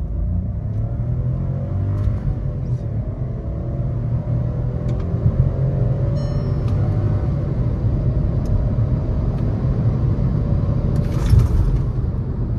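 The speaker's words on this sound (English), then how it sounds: "revving the motor, rev still 2100 on RPM, and off we go" A Skoda Kushaq with a 1-litre three-cylinder turbo engine pulls away hard in sports mode, its engine note rising and droning steadily, loud and close with cabin rumble throughout and no talk.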